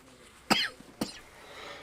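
Two sharp coughs in quick succession, close and loud, followed by a quiet breathy pause.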